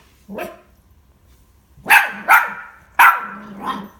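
A beagle barks nearby in loud, sharp bursts: a single bark, a pause, then a quick pair and a final bark trailing into a softer yip, with quiet room tone between them.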